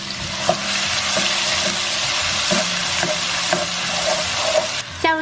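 Red pepper, minced ginger and garlic sizzle steadily in a thin layer of hot oil, with a constant crackling hiss broken by a few soft clinks of a spatula stirring in the wok.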